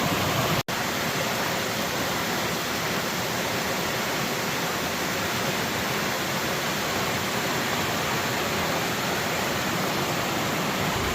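Steady broadband rush of a stream at a water crossing on a hiking trail along the Appalachian Trail, loud and continuous throughout, with one momentary dropout near the start and no talking.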